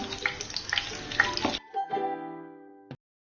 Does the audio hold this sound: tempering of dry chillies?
yes